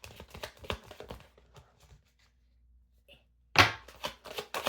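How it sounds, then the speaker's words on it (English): Playing cards are shuffled by hand in quick riffling rustles, a flurry early on, a pause, then a sharper burst of flicking and snapping close to the microphone. "Don't make fun of my terrible shuffling"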